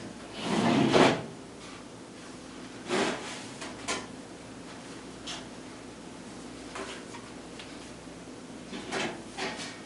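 A file drawer in an archive is pulled open with a loud sliding rumble, then folders are lifted out with a series of softer scrapes and thumps, close by in a quiet room.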